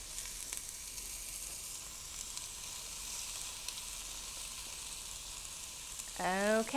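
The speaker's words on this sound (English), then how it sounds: "we're gonna go ahead and put those in the Ninja grill" Pork and pineapple kebabs on a hot Ninja grill give off a steady, faint, crackling sizzle. A louder clatter of movement comes in right at the end.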